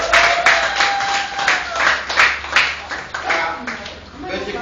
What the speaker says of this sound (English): Can you clap yourself?